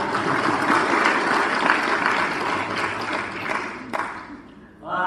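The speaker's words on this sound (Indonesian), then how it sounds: "Mungkin perlu kita tepuk tangan dulu untuk semua panitia." Audience at a graduate graduation ceremony applauds the organizing committee, a loud sustained wash of clapping that tapers off near the end, with no clear talk.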